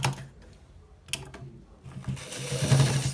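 A sewing machine stitches the end part of a designer shirt with buttons, running in short bursts of close mechanical whirring with brief pauses between, growing louder and steadier toward the end.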